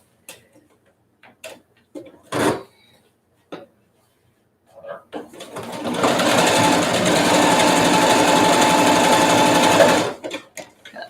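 Sewing machine stitching a zigzag on high-waisted jeans runs steadily for about five seconds, loud and close, after a few short clicks and handling sounds.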